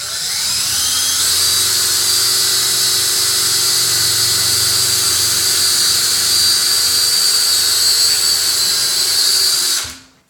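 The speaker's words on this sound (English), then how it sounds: "I'm just gonna drill a little hole in there so that I can screw up into there" A power drill bores a small hole into a 2x4 while a fan support outlet box is mounted, a loud high-pitched whine held steadily for about ten seconds before cutting off abruptly.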